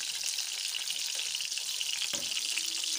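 Chapli kabab patties shallow-frying in hot oil, a dense continuous sizzle and crackle up close, with one brief knock partway through and no talking.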